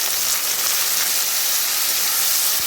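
Marinated meat hits a hot frying pan, setting off a loud, steady, broadband sizzle that hisses continuously throughout with no voices.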